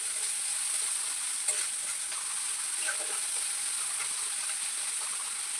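Fish frying in a pan sizzles in a steady high hiss with scattered small pops and crackles, close and moderately loud, with no talk.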